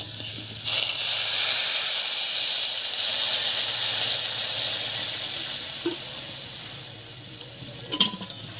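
Hot water poured into a pan of fried dried fish (shutki) and potatoes sets off a steady, loud sizzle and hiss that runs throughout, with a couple of brief clinks near the end.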